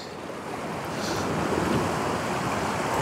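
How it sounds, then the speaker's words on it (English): Ocean water surging up through a rocky shore ravine, a rising roar of washing surf and spray that swells and holds, heard nearby with wind noise and no voices. "Look at the water coming up."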